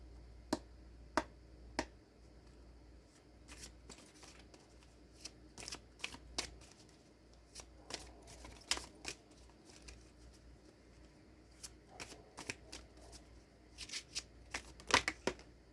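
Tarot cards being shuffled by hand, a series of sharp riffling snaps and soft slides in irregular bursts, close and crisp against a quiet room.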